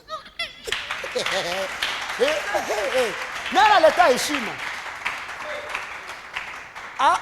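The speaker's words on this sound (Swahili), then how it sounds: "Tufanye makofi." A church congregation claps together in a rough, continuous patter while voices speak and call out over the top.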